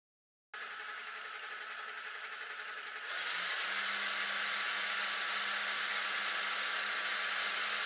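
A Traxxas TRX4 Sport RC truck's electric motor whines steadily, then rises into a louder, higher-pitched sustained whir as it accelerates partway through and holds there.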